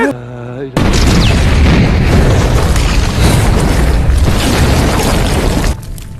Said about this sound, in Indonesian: Seketika itu bom pun meledak.